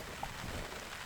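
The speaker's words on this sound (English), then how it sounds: "it's starting to rain a lot more now." Rain falling in Inyo National Forest, a steady dense hiss of drops pattering on surfaces nearby, fairly loud and even, with one small sharp drip sound standing out.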